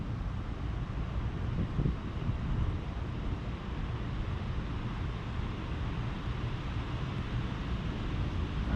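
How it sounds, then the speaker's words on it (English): Wind buffets the microphone outdoors beside a Jeep Wrangler, a steady loud rumbling roar throughout with no talk. "Right as I go to do it, the wind picks up."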